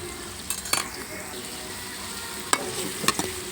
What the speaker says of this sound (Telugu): టమాటాలు కూడా ఉల్లిపాయలుతో పాటు బాగా వేగనివ్వాలి.